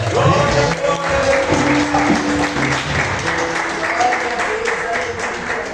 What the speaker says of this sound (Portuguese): As palmas vão ao Senhor.